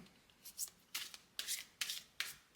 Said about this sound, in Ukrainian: Давайте покажу вам, як вона тасується.